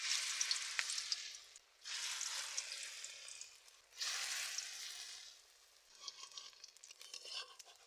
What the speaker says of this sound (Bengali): মেখে রাখা সজনে পাতাগুলো আমি কড়ার মধ্যে আমি তেল দিয়ে দিয়েছি